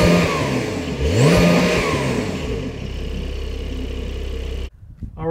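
A Porsche 911 992 Cabriolet engine cranks and catches, then revs up sharply before settling into a steady low idle that cuts off abruptly near the end.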